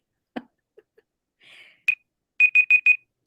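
A short electronic timer alarm beeps four times in quick even succession, loud and close, after a few soft handling clicks and a brief rustle.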